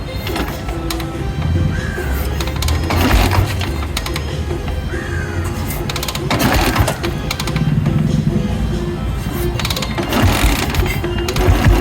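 A Royal Enfield Bullet motorcycle with TCI ignition starts up and runs, its single-cylinder engine keeping a rhythmic mechanical chatter that swells and eases in loudness, heard up close.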